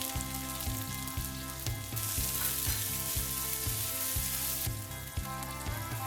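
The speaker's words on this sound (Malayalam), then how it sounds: "എണ്ണ ചൂടാക്കി ഒരു 1-2 സ്പൂൺ കടുക് പൊട്ടിക്കണം." Mustard seeds spluttering and popping in hot oil for a Kerala mutton stew, a dense continuous sizzle with rapid crackles, close and steady throughout, no voices.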